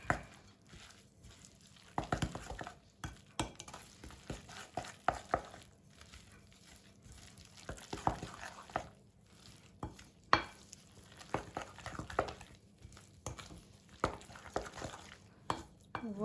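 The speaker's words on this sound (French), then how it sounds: "Et je mélange de nouveau" Chocolate-zucchini cake batter stirred in a bowl, a close, quiet series of soft scraping and thick mixing strokes in an irregular rhythm, with no talking.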